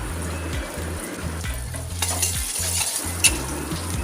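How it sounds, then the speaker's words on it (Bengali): Onion stir-frying in a pan with green chillies, turmeric, salt and chilli powder, a steady close sizzle broken by repeated scraping strokes of a spatula against the pan. "পেঁয়াজটা খুব সামান্যই নাড়াচাড়া করব খুব যে কড়া করে ভাজবো না"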